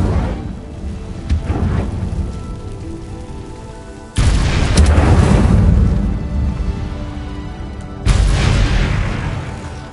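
Two Incendio fire spell casts in Hogwarts Legacy: each erupts suddenly as a loud, booming blast of flame that rumbles and slowly fades, the second arriving about four seconds after the first, over a low background roar.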